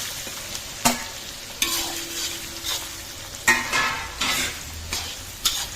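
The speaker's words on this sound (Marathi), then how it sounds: "कढीपत्ता टाकून घेतोय सगळा आणि सोबतच मग ह्याच्यामध्ये मिरच्या आणि कांदा टाकतो" Curry leaves, green chillies and onion sizzle in hot oil with cumin for a large batch of poha. A spoon scrapes and stirs through the pan at intervals over a continuous close frying hiss.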